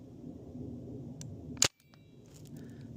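A .68 caliber pre-charged pneumatic air rifle fires once, a single sharp, loud crack standing out against a quiet outdoor background, followed by a brief hush.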